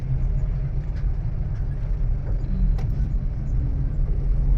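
A car cruising along national highway NH65 produces a steady low road rumble and engine drone from inside the cabin, constant throughout with a few faint rattles and no talk.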